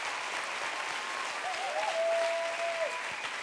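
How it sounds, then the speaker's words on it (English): An audience at a church talk breaks into a sustained round of applause, steady dense clapping filling the room throughout, with a faint tonal voice or whistle drifting over it midway. "go on, give a round of applause."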